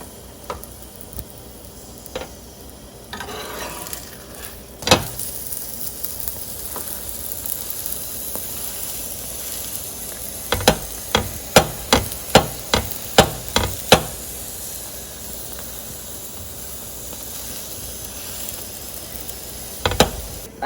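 Aloo paratha frying on a pan over medium heat gives a steady low sizzle, with a quick run of sharp ticks and pops partway through and a couple of isolated clicks near the end.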